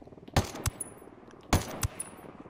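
Two bursts of rapid gunfire from an MK-17 rifle in Ghost Recon Wildlands, each a quick double shot that rings out sharply and then fades into a short echoing tail, with a pause between the bursts.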